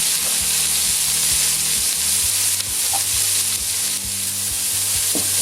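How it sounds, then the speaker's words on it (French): Carrots and other vegetables sizzle and crackle steadily in a hot pan, a dense continuous frying hiss with occasional soft stirring clicks, close and fairly loud, no voices. "On fait griller un peu les légumes."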